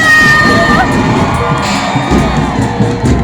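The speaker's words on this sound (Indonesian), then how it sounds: "Tepuk tangan yang meriah untuk Desa Sukamaju." A large crowd cheers and claps loudly at the Tasikmalaya city anniversary celebration, with shouts and whoops rising over continuous applause.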